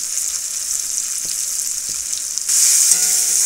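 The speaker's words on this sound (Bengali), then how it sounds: "মশলার সঙ্গে একটু ভেজে নেব" Tomato, onion and spices sizzle in a pan, a close, bright frying hiss with a couple of soft stirring knocks, and the sizzle swells louder as more goes in near the end.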